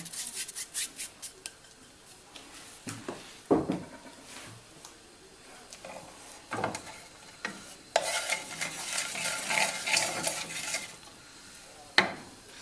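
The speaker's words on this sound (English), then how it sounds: "When the mustard seeds start to pop and go grey, then it's ready" Black mustard seeds crackle and pop in hot oil and butter in a home kitchen, with scattered sharp pops over a steady sizzle, plus stirring scrapes and a few louder clacks of a utensil against the pan.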